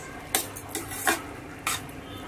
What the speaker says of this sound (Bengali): পাস্তাগুলো আমি মিক্স করে নেব